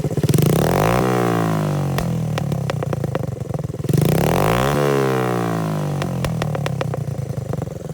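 A 1987 Honda TRX70 ATV with an 88cc big bore kit engine is revved up twice and then drops back toward idle each time, with a loud, close, buzzy exhaust note and rattling pops as it settles.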